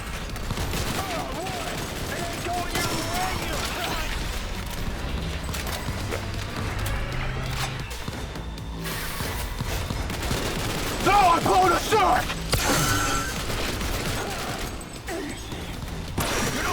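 Assault rifle gunfire in the video game Cyberpunk 2077, rapid bursts of shots mixed with mechanical clatter and dense game sound, with a player's voice talking over parts of it.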